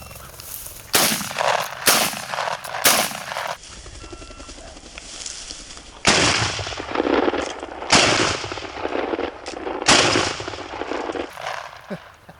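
Shotgun blasts from a bird hunt ring out loud and close, about six sharp reports spaced a second or two apart, each trailing off in an echo, with quiet outdoor ambience between.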